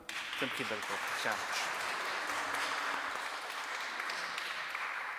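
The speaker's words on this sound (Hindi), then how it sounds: "आपकी भरपूर तालियों में" A church congregation applauds during a memorial Eucharist celebration, a soft, distant, sustained clapping that follows a few spoken words at the start.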